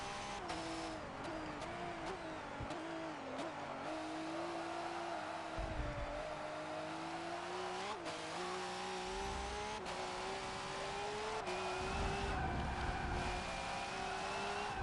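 A V8 Supercar in Forza 7 at Circuit of the Americas slides through a corner, its steady engine drone shifting pitch with faint tire scrubbing, continuous and fairly close.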